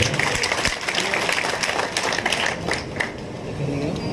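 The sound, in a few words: audience applause welcoming the housing board chairman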